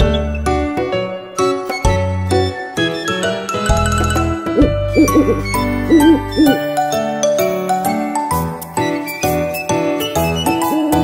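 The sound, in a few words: owl hooting in a children's song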